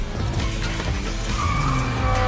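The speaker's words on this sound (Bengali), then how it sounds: "পা দিয়েই তিনি 172 মাইল প্রতি ঘন্টা বেগের গতিতে ড্রিফটিং করতে পারেন।" A professional racing car drifts, its engine growling and tires squealing in short bursts, close and loud with no talk.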